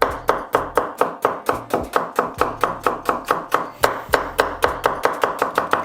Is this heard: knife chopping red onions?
yes